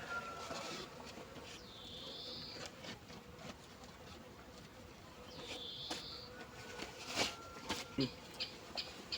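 Honeybees buzzing around a hive at an apiary as it is closed up and insulated, a faint steady hum with occasional louder passes of single bees and a few clicks and knocks nearby.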